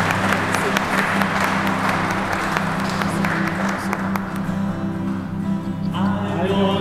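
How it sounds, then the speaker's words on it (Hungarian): A congregation applauds at a Hungarian Christmas church service, sustained clapping from many people that runs the whole time at moderate loudness, with a low organ-like hum and a faint voice underneath. "egy nagy taps mindenképpen jár neked"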